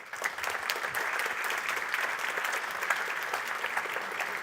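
An audience applauds after a talk on Kubernetes, a dense, even wash of many hands clapping that holds steady at moderate loudness for the whole stretch, with no voices over it.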